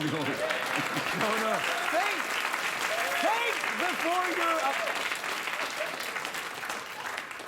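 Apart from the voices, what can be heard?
audience applause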